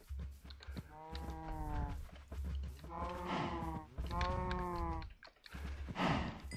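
Blocky Minecraft cows on a cattle ranch give three drawn-out, low moos in slow succession, fairly quiet and with no talking over them.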